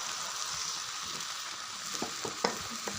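Spice paste and fulbori sautéing in a pan for a pumpkin-greens dish, a soft continuous sizzle with a few light spatula taps near the end.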